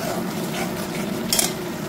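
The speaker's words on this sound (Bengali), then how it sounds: "বাটা মশলাটাকে দিয়ে আরও বেশ কিছুক্ষণ নাড়াচাড়া করে" Ground spice paste fried in oil in a pan, stirred steadily with a utensil, giving a continuous close sizzle with scraping and a brief sharper metal scrape near the end, no talk.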